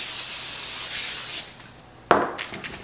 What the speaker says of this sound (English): I'm just gonna spray this.